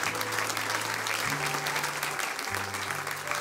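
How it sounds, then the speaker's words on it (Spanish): Loud, dense applause from a church congregation at a Sunday service fills the whole stretch, steady and continuous, with a low sustained organ or keyboard tone underneath. "Dele un gran aplauso al Dios del cielo"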